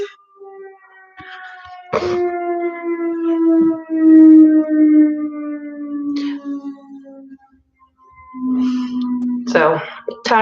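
A civil defense siren sounding at noon wails in the background while someone speaks intermittently over it, the voice rising and falling above the long steady tone.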